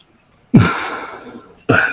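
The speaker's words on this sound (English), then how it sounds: "but that was a fake sneeze" A sudden sharp sneeze-like burst of breath, close and loud, followed by a sustained exhale and a second quick burst.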